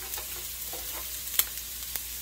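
Onions sauté in olive oil in a pan with a faint, steady sizzle and a few soft clicks from a utensil.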